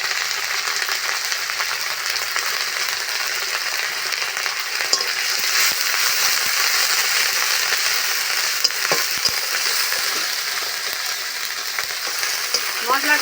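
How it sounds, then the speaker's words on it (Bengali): Onion, ginger and spices fry in a pan with a loud, continuous sizzle, broken now and then by faint scrapes of stirring. "মশলাটা ভালো করে কষিয়ে নিতে হবে।"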